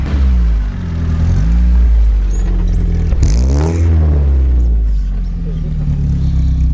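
A stock Lada Niva on studded winter tyres revs its engine at a winter competition, a loud rising and falling engine note with a sharp surge midway, and a voice talking over it.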